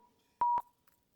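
A single short telephone keypad tone beeps once, clear and isolated against near silence.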